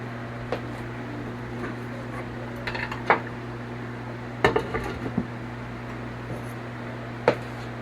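A knife cuts a potato in an electric skillet of beef stew, producing a few scattered metallic clinks and scrapes over a steady low appliance hum, without speech.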